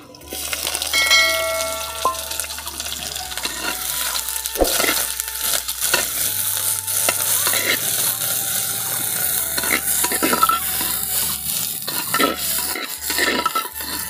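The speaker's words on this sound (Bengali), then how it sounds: "ভাজা ভাজা হয়ে গেছে, দিয়ে দিচ্ছি পেঁয়াজ।" Onions go into hot mustard oil with a dried red chilli and bay leaf in a clay pot, frying with a loud, continuous sizzle and occasional stirring clatter from close by.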